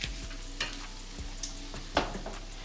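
Green beans and garlic fry in a pan, giving a steady quiet sizzle broken by a few soft stirring scrapes, close up and without talking.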